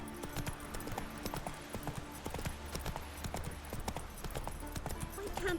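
Roach, a horse in The Witcher 3, gallops with rapid, rhythmic clip-clopping hooves throughout, steady and fairly close, with faint background sound underneath.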